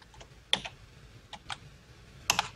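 Sparse keystrokes on a computer keyboard during a gaming session, a few separate clicks and short clusters of taps, close and fairly quiet, with no talk over them.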